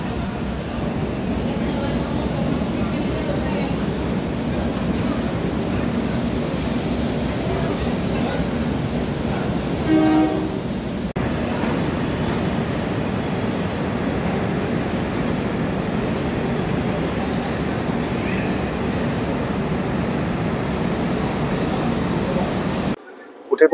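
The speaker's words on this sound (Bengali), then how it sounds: "ট্রেন আছে 12 নম্বর প্ল্যাটফর্মে পদাতিক এক্সপ্রেস।" At Sealdah station, a steady low rumble and broad noise fills a railway platform where the Padatik Express stands, with continuous station ambience and a brief squeal partway through, running without pause until an abrupt end.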